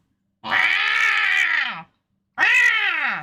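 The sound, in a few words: cat noises in a dubbed Yu-Gi-Oh! episode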